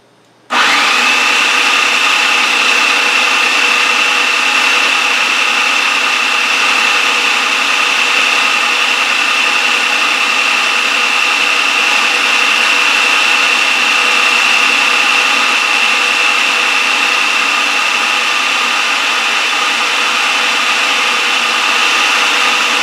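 A blender churning garlic and onion paste with olive oil, a loud steady motor whine that starts abruptly and runs unbroken for over twenty seconds.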